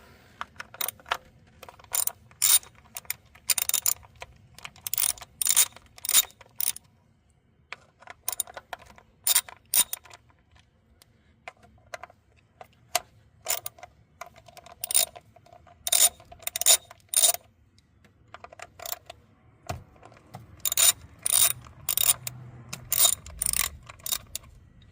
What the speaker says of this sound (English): now next step is gonna be removing these coils. For that I'm using Torx bit number 30.